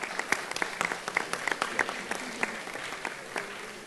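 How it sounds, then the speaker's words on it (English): A crowd at a high school math tournament applauds the reigning champion team, with irregular sharp claps ringing out over a steady bed of clapping, moderately distant. "let's give them a round of applause."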